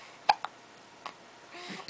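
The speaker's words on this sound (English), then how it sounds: "I'd be happier if I didn't have the hiccups" A baby's hiccups, a sharp catch near the start followed by a softer second one and a faint third, with quiet room noise and a little murmuring toward the end.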